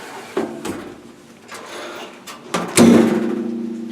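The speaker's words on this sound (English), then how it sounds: "Close washer door." A dishwasher door swinging shut, with sharp knocks and a final solid thud followed by a lingering hum from the machine.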